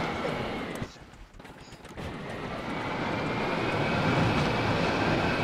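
Engines of a player-built multi-engine vehicle in the video game Scrap Mechanic roar in a dense, steady drone that dips briefly, then builds back up louder.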